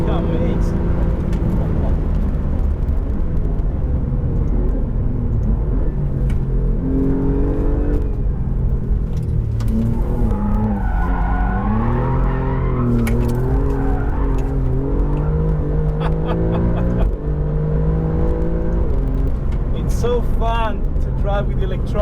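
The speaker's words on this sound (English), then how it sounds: "My goodness, the noise this car makes." Alfa Romeo Giulia GTAm super-saloon driven flat out on a racetrack, its engine loud and close as it revs hard through repeated rising and falling gear pulls, with tyre squeal near the end and no talk.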